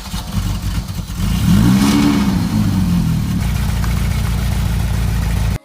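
An old, long-abandoned Ferrari 308 with a faulty engine revs up loudly from idle. The exhaust rises and falls in one strong swell, then settles into a steady, rough, tractor-like drone close by.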